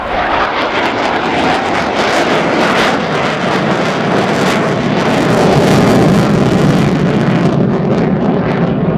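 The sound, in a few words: Ukrainian Air Force Su-27P1M Flanker jet flying display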